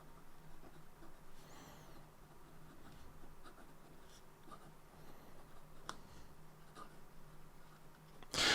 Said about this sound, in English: And here we go with a bit of a writing sample.